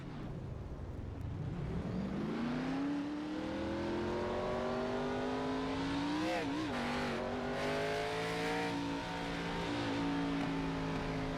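Race car engine in Forza on a warm-up lap, a loud sustained drone rising in pitch, dipping briefly at a gear change, then climbing and holding steady.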